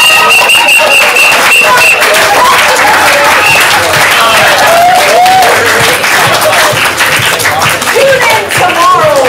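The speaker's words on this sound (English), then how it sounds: "let's hear some applause and keep it going" Lively audience at an improv comedy show clapping loudly and continuously, with occasional whistles and cheers mixed into the crowd noise.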